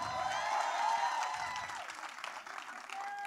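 A crowd at a film trailer launch event applauds and cheers, the clapping somewhat distant and mixed with a sustained tonal hum and crowd noise, fairly faint overall.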